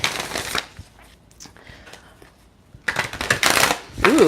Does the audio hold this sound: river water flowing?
no